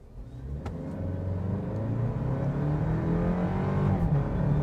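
A 2024 Toyota Land Cruiser 1958 hybrid SUV floored in sport mode on an off-road course, its engine note climbing steadily through a long, loud rising pull with rising harmonics and a brief shift near the end.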